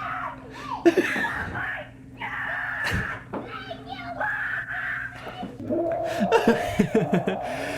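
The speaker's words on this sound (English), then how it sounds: "the screams you hear are a little boy in a onesie PJs just screaming" A little boy in onesie pajamas screams and squeals in a home recording, giving shrill, uneven bursts close to the microphone, mixed with other voices talking and laughing.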